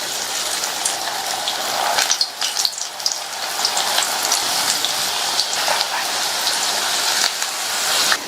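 Okra pieces frying in hot oil in a kadai, a loud, dense sizzling crackle like heavy rain, steady throughout with brief bursts of sharper spitting.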